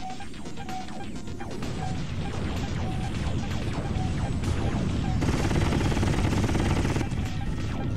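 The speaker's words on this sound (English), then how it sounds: "Please stop shooting me" Gunfire and crashing explosions in the G-Police video game during an aerial battle with a gunboat, a dense, loud barrage of rapid shots and impacts that continues through the whole stretch.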